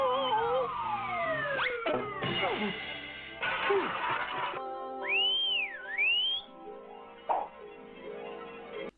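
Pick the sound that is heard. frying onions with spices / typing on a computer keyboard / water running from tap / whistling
whistling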